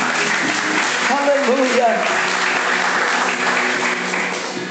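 A church congregation at a Portuguese-language inner-healing service applauds steadily and fairly loudly throughout, while a voice calls out over the clapping.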